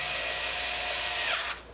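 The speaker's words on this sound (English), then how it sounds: "I like to start them first before I put my drill into them." A power drill whirs steadily at close range driving screws while reassembling a PlayStation 3, its motor pitch dipping as it bites and then cutting off near the end.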